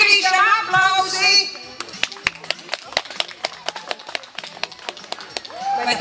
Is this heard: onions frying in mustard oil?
no